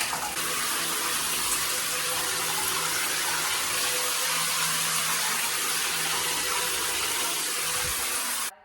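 Water pours steadily onto a swollen face after a hair transplant, a continuous close rushing and splashing stream with no break until it stops abruptly at the end.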